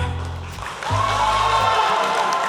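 Sustained clapping and whooping from a convention crowd at a Spy x Family voice-actor panel, dipping briefly then swelling back to a loud, steady roar.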